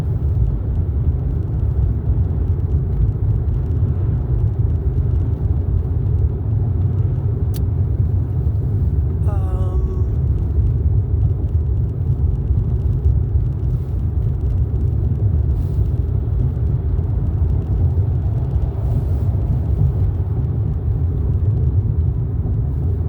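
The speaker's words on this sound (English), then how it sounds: "there's a lot of people riding up and down the street today. There's a lot of traffic." Street traffic with cars passing by on a cold day: a constant low rumble of engines and tires, steady and moderately loud, with a few faint higher chirps rising over it partway through.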